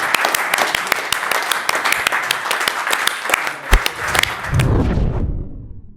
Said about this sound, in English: with a warm hand of applause, let's bring you back to your seats.